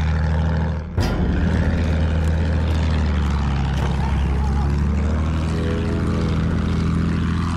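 An enemy bomber in the Battlefield 1 game drones loud and close with a constant low propeller-engine roar after one sharp bang at the start, with brief game voices under it.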